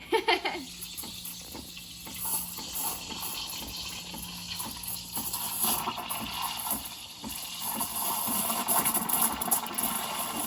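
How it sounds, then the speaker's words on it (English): A steady hissing, gushing rush of an espresso machine steam wand frothing lemonade, continuous and fairly loud throughout with a low mechanical hum underneath. "Now we're going to be steaming our lemonade using our espresso machine"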